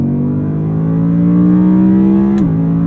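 An Audi R8's V10 engine on overrun holds a steady, loud droning burble from inside the cabin, then dips in pitch as the throttle closes near the end.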